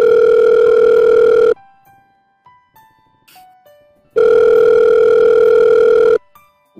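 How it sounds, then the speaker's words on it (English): A loud, steady electronic telephone ring comes in two long bursts, separated by a quieter gap with scattered beeps and short tones. "What is this ringing? It's fucking loud!"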